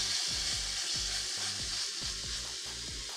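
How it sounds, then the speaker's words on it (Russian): Pork sizzles in a hot pan with a bright, constant crackle, punctuated by regular scraping stirs roughly every half second. "Я продолжаю жарить на этой же температуре 1600."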